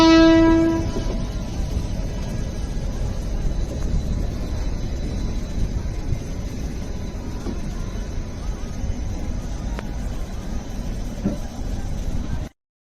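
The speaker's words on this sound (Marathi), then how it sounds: "ही पहिली लोकल काल कुर्ला कारशेडमध्ये ज्यावेळेस दाखल झाली तेव्हाचा हा व्हिडिओ पहा" A new 12-car Mumbai local train entering the Kurla carshed sounds a loud horn blast at the start, then a steady heavy rumble of the train rolling close by.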